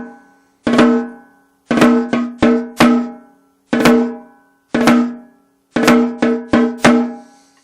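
A snare drum plays a slow triple ratamacue with tight, closed drags leading into each accent, sharp strokes ringing out with no other sound.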